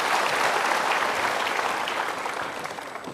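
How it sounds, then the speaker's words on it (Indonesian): A studio audience on an Indonesian Metro TV talk show claps together in a dense, loud burst of applause that fades slightly near the end, with no talk. "Yuk kita berikan tepuk tangan untuk mereka."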